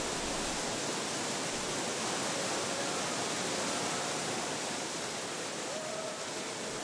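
Twin waterfall pouring down beside the sacred body of Yudono mountain, a steady, dense rush of falling water holding even and unbroken throughout, close and full with no other sounds.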